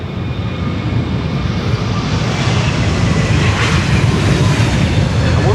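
A JetBlue airliner taking off from Schiphol's Polderbaan runway 36L produces a loud, steady broadband engine roar that swells slightly and fills the whole stretch.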